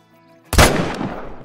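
A single loud rifle shot fired at a whitetail buck in the hunting game Call of the Wild, a sharp crack after near silence followed by a long rolling echo that slowly fades.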